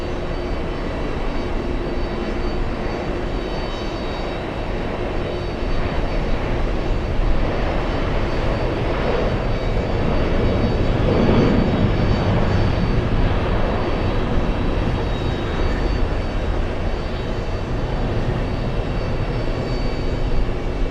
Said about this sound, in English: We have the Irish flying back to Dublin, A330-300.